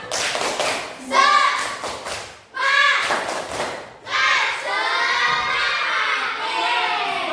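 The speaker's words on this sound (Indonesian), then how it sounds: "Tepuk semangat." Classroom of children doing a rhythmic group clap chant in Indonesian, bursts of unison clapping alternating with loud chanted shouting voices, close and energetic.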